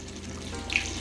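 Water is poured into a garden sprayer to top it off, giving a short, close splashing trickle with a brief bright spurt near the end.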